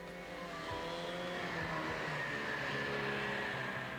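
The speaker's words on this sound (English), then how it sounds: "Or go for a spin in a Grand Prix car." A Grand Prix race car at a family amusement park attraction in Tennessee drives past, its engine droning with brief tire squeals, fairly faint and distant throughout.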